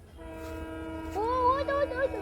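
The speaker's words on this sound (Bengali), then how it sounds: "সাইরেন কলকাতা ট্রেনটা ইয়া ঢুকে এখন খাটলিছড়া স্টেশনে।" The horn of the Kolkata-bound long-distance train sounds as it pulls into Katlicherra station, starting faintly and swelling into a steady, loud blast near the end, over a low background hum.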